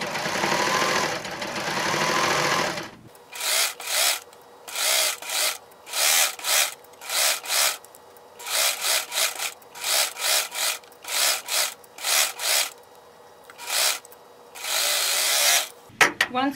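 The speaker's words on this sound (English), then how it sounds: "And as I'm serging, I'm using my other hand to kind of keep pushing the rolled up fabric" Serger stitching rolled fabric for a wine gift bag, opening with a continuous run of whirring, then many short bursts of motor hum with pauses between, close and fairly loud.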